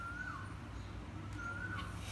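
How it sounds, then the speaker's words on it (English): A bird calls twice, a clear faint whistled note repeated after a pause, heard over a steady low hum of room noise. "Which bird is this? It's a bird."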